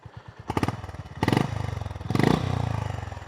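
Honda GB350 single-cylinder motorcycle engine revved three times in quick succession, each blip rising sharply then settling back to a loping, thumping idle, close and clear.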